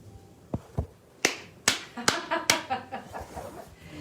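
Hands clap in a home setting, first in a few separate sharp claps and then in a quicker irregular burst. The claps sound close and fairly loud and trail off toward the end.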